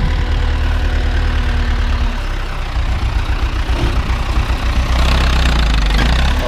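A tractor engine runs close by with a heavy, chugging diesel rumble that rises and falls as it pulls a plough through roots.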